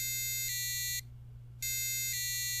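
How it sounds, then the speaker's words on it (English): A micro:bit soil moisture sensor sounds its alarm buzzer in shrill, pulsing electronic tones, two bursts split by a brief gap, loud and close over a low steady hum. "With this fantastically annoying buzzer, I should not forget to water my plants"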